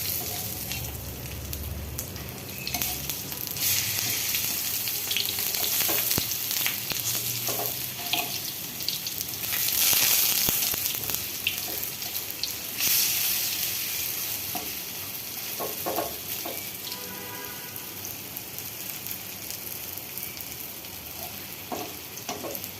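Lentil fritters (dal bora) fry in hot oil in a pan with a continuous crackling sizzle, and occasional scraping and stirring sounds rise over it. No one speaks.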